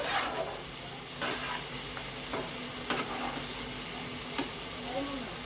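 Yogurt being stirred into food in a hot pan while cooking a Bengali lunch of chicken, with steady sizzling under intermittent scraping and stirring strokes, moderately close and fairly quiet.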